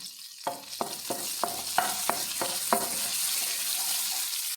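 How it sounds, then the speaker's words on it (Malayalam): Curry leaves frying in hot oil in a pan for a potato bharta, with a steady loud sizzle and a run of sharp crackling pops at the start, then a continuous hiss to the end. "ഈ ലാസ്റ്റ് കറിവേപ്പിലിട്ടൊന്ന് വറുത്തെടുക്കാം"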